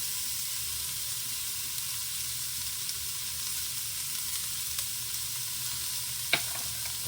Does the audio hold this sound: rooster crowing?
no